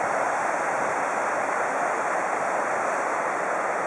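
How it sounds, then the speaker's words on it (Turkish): The Nastaf stream flowing alongside a mountain road, a dense, steady rush of churning water that stays loud and unbroken throughout with no voices. "İşte yanımızda Nastaf Teresi akıyor şu anda."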